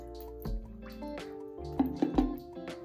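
Denture cleaning solution poured out of a container, heard up close as a few soft sloshes followed by quick dripping, gurgling spills of liquid in a quiet room.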